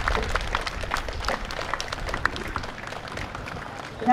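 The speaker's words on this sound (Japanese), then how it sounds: "さあどうぞ皆様今一度大きな拍手をお願いいたします。" Audience applause fills a gymnasium after a Morioka Sansa Odori stage performance at a traditional performing arts festival, a steady dense clatter of many hands held for several seconds without a break.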